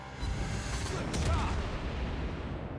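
In World of Warships, a tier 10 Z-52 destroyer fires a salvo, a booming burst of gunfire midway through a rumbling battle soundscape.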